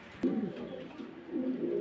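Domestic homing pigeons with farm tags on their legs coo in low, throaty bursts at close range, one near the start and another toward the end, over a faint background hum.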